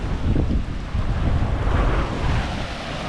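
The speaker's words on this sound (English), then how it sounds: "When the waves die down, the water, it becomes clear and there's no white water." Ocean waves roll in at Bridgewater Bay, a broad continuous rush of surf mixed with heavy wind buffeting the microphone, loud and unbroken throughout.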